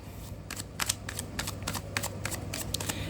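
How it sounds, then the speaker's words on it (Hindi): Tarot cards are shuffled by hand in a close, continuous flurry of quick riffling flicks and slaps, with no voice. "Last shuffle."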